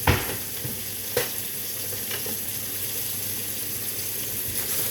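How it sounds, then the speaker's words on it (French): Onions sizzle in a pan as the base for moules marinières, a soft steady frying hiss with a couple of brief stirring clinks, fairly quiet. "Donc je fais bien venir mes oignons."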